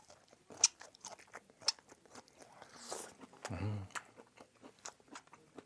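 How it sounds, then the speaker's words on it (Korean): Fresh fatsia shoots (dureup) dipped in chili paste are bitten and chewed up close, soft crunchy bites and mastication, fairly faint with no talk. "두릅입니다. 일단 한번 먹어보도록 하겠습니다."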